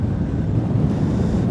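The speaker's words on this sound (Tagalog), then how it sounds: "Grabe, ang lakas ng hangin," Strong wind buffets the microphone in a steady, loud roar at a snowy ski area in Hakuba, Nagano, Japan, with no talk.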